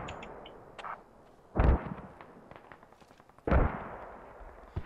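Two heavy booming mortar rounds fire in the video game Squad, spaced a couple of seconds apart, each a loud deep thump with a decaying tail over quiet background ambience.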